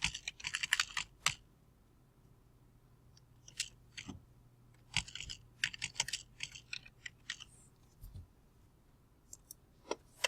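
Typing on a computer keyboard, with quiet scattered clusters of key clicks and short pauses between them, and no voice.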